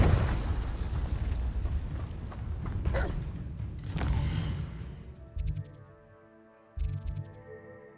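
Spell blasts in Hogwarts Legacy, the Confringo fire curse among them, crackle and boom loudly in a dense rumbling barrage, then give way to two short bursts with quieter gaps in between.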